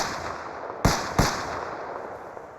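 Two grenade explosions in a shooter video game, sharp cracking blasts about a third of a second apart, fairly close, over a steady low hiss of game ambience.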